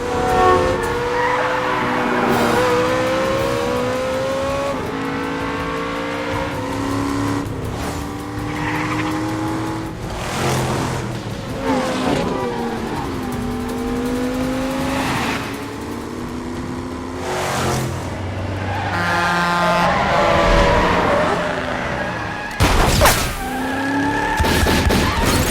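Car chase in a film, with tires squealing and skidding repeatedly over revving, accelerating engines, loud and sustained with sharp impacts and swells throughout.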